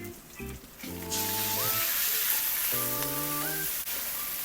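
Tomato paste sautés in a pan, a sharp sizzle swelling up partway through and holding steady, close and moderately loud, with a faint voice talking in the background early on.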